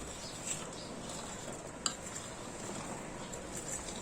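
Raw mango pieces for pickle tumble into cooled homemade pickle masala in a metal pot, giving faint clinks and a brief utensil knock over a quiet, steady background.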